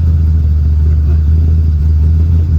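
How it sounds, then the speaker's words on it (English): A rough-running car engine rumbles loudly and steadily during a throttle crack, a deep, even drone that shows no sharp rise in revs. "so I'm going to go do a throttle crack"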